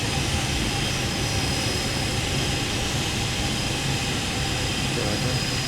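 Steady broadband roar of Flysimware Falcon 50 jet engines in a P3Dv5 flight simulator, a constant whine-tinged rumble with no talk over it.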